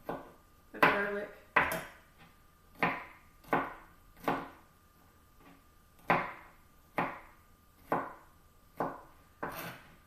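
A knife coarsely chops garlic on a cutting board, about a dozen sharp, fairly close knocks at a steady, unhurried rhythm with no talking, each sounding alone.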